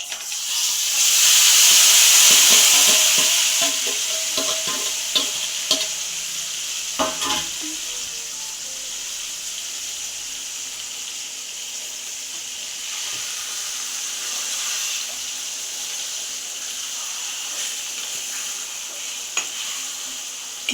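Grated raw mango with chili powder and salt is stirred in a hot pan of oil for mango pickle, a loud steady sizzle with scraping spoon strokes throughout, fiercest at the start.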